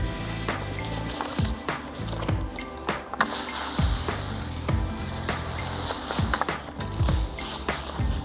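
A roll of gloss black paint protection film is unrolled, giving a steady, close crackle of ratcheting clicks and rustling with no one talking.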